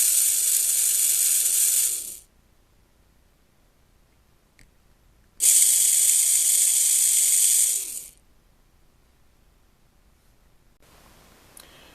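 A small DC motor on an Arduino-controlled push-button circuit runs in two steady whirring bursts of roughly two to three seconds each with silence between, then starts a third run, close and alone.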